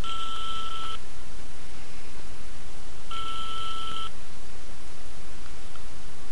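A phone number is dialed on speakerphone in the spy game Spycraft: loud dual-tone keypad beeps, one tone lasting about a second and another a few seconds later, over a steady hiss of line noise.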